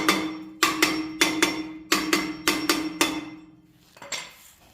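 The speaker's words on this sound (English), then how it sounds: "just pop it off, use the hammer." Sharp metallic hammer blows knock at a rear brake rotor on a 2015-or-later Toyota 4Runner, striking in quick pairs and bursts, about nine hits, ringing briefly against a steady low hum, then a couple of softer taps.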